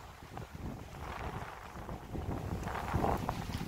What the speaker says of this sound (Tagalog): Lakas na ano, yung hangin.